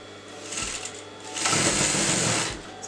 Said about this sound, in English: let me sew this together